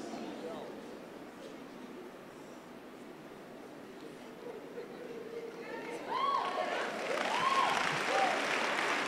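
A church congregation claps during a Sunday service, scattered applause that swells louder midway, mixed with crowd murmur and some talking in a large hall.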